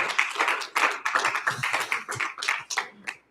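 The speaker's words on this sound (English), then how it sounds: "Can we get one more applause for Ian?" Audience applause for a presenter at a professional presentations session, a short burst of close, dense hand clapping from a small group that thins out and stops after about three seconds.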